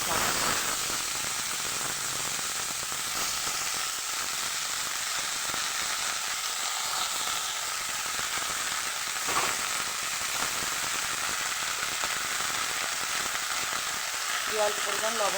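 Fenugreek leaves (methi shak) fry in a pan with garlic, green chili and nigella seeds, making a loud, continuous hissing sizzle with a steamy wash that holds steady throughout, with occasional soft stirring.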